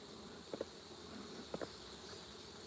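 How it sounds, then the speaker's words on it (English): Honeybees hum steadily inside a hive during an inspection near the honey super, a dense even drone with two pairs of brief close knocks or clicks. "There should be a ton of bees up here, tons."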